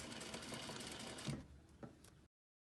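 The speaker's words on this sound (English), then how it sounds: "So I'm going to sew it at 3/8. Back stitch this time." A sewing machine back-stitches a fabric face mask, a close, steady mechanical whir for about a second and a half, then a few softer clicks and stops before it falls silent.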